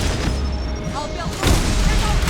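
Gunfire rattles in the Mass Effect 2 video game, a loud stretch of booming shots and bursts with a heavier blast midway, while voices call out over the combat.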